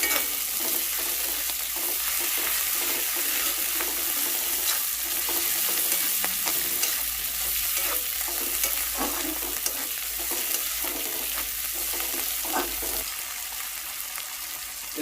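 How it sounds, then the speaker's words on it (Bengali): Spices frying in a little oil in a pan for a spicy koi fish curry: a steady, bright sizzle with frequent scraping stirs, close and continuous throughout, with no talking. "মশলাগুলো ভালোভাবে ভাজতে হবে।"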